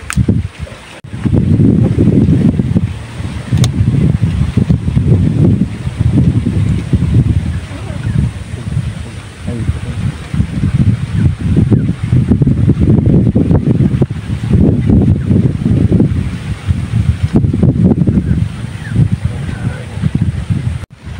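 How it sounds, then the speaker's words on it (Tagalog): Strong wind roars and buffets a microphone in repeated gusts, with boat and water noise underneath throughout. "Lakas na guys ng hangin."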